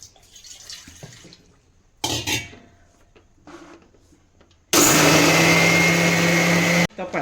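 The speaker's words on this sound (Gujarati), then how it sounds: "પહેલાં આપણે ચોખા ક્રશ કરી લેવું" A mixer grinder crushes soaked rice for Gujarati khaman dhokla batter, starting with short handling clatter and brief spurts, then a loud, close, steady whirring roar for about two seconds before cutting off.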